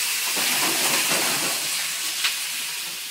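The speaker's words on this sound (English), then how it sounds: "add the pork. So, stand back as it spits." Loud, steady hiss of pork belly sizzling in a hot pan, with sharp spitting pops scattered throughout.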